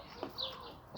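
Backyard hens cluck in a short, close burst, a couple of sharp calls rising over a low, steady background.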